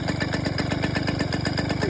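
A dirt bike engine idles close by with a fast, steady, even putter that holds constant for the whole short stretch.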